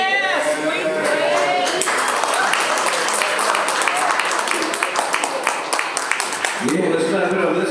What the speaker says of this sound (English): let's clap it up